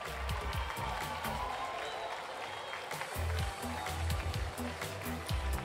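Spectators at a horse show at the Salon de l'agriculture clap for a Boulonnais draft horse, a moderate, continuous applause with heavy rhythmic low thuds running underneath.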